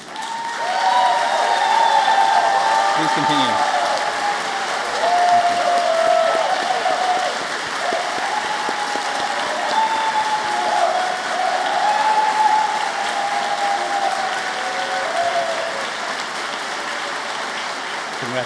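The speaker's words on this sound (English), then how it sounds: "give yourself a round of applause, and don't stop until your heart is full" A large audience at a baccalaureate ceremony applauds and cheers at length, a dense sustained roar of clapping with a brief spoken interjection near the start.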